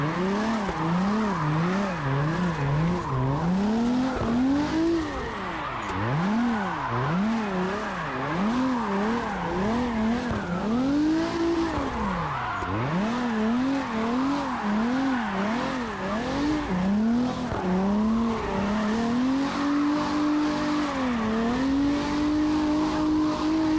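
Drifting car in CarX Drift Racing Online, engine revving up and down in constant wavering pitch sweeps under steady loud tire squeal, continuous and close throughout, with no voices.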